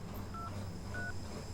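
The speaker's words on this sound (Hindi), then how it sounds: "एक बार बड़े भाई को हम कॉल करती।" Two short dialing tones from a phone as a call is placed, spaced apart and faint, over a low steady background hum with no talk.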